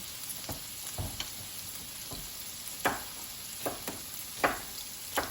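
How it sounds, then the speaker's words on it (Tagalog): Onions sizzle in a frying pan with a steady low crackle, and sharp scrapes and taps of stirring break in every second or so, close and without talk. "Palutuin muna natin ng konti yung ating onions."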